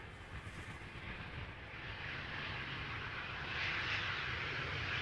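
A KLM Embraer 175 airliner arriving at Amsterdam Schiphol from Prague, a steady broadband jet roar with low engine rumble that swells slightly toward the end, heard from a distance with no talking.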